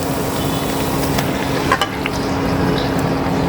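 Duck meat cooking in a pan of fried spices, giving off a steady, close sizzle with soft scraping and stirring clicks.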